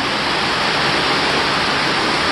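Heavy rain pouring during a hurricane, a loud unbroken roar of water with no gaps, close to the microphone and without talk.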